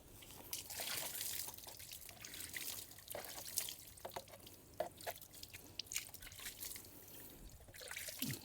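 Water is poured over the shock absorber seal of a motorcycle under repair. It splashes and trickles steadily with irregular drips and patters, fairly close and on its own.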